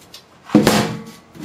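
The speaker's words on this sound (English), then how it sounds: "Now I'm just going to take the side of the case off." Removing the side panel of a Cooler Master HAF 932 Advanced computer case gives a single sharp clack with a short rattle of the panel, close and fairly loud.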